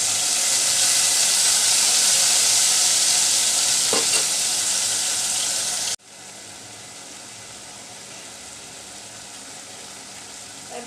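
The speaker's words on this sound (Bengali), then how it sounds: "মরিচটা কষিয়ে নিব এবার" Chili paste loosened with a little water is sautéed and stirred in a pan for a dried ribbonfish curry with potato and eggplant. A loud, steady sizzle fills the first half, then drops abruptly to a quieter hiss.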